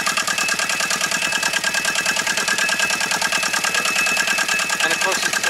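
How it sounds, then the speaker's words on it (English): A Renault Avantime car engine idles with a fast, even pulsing rumble, loud and close, holding steady throughout. "it's a meaty little engine, isn't it?"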